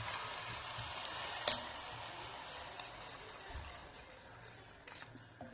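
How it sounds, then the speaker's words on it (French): Water poured into a pot over browning lamb shank and onion, a steady hissing, sizzling wash of sound at moderate distance, fairly quiet and continuous, with a sharper splash near the start. "je vais venir le couvrir d'eau"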